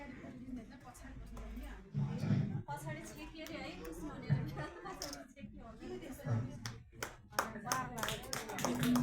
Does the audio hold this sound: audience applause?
yes